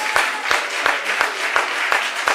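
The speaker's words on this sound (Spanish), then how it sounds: "Señoras y señores, un fuerte aplauso por sus sueños." Sustained audience applause at a coworking demo day event, a dense steady wash of many hands with a few sharper individual claps standing out, continuous and fairly loud throughout.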